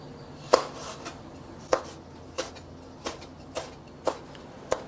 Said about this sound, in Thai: พริกชี้ฟ้าแดงครับ 2 เม็ดนำมาหั่นแฉลบ